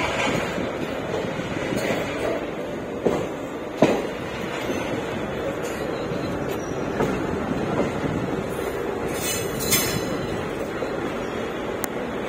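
A train at Vijayawada Junction railway station makes a continuous rumble and roar across the whole stretch, with a few clanks and metallic screeches rising above it and no clear speech.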